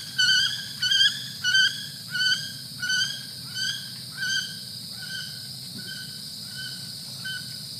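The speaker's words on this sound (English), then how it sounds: "that is the alarm call of the wood duck" A female wood duck repeats a squealing alarm call about a dozen times as she flies away from a pond, each call quieter than the last until it fades into the distance.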